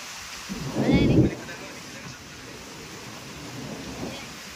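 A single deep roll of thunder rumbles early during heavy monsoon rainfall with wind, then a steady, faint wash of rain continues alone.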